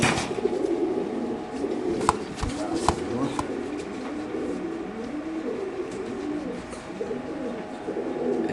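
Racing pigeons, including a male club racer, coo at a bird market, with soft repeated coos under a steady din of nearby voices and a couple of sharp knocks.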